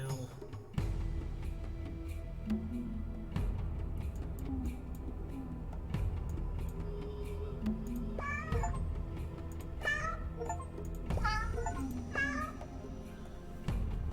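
Cartoon cat meows from the game 100 Cats: Africa, Aztec, and Ocean, with clusters of quick rising mews toward the end over a steady looping background with light clicking ticks.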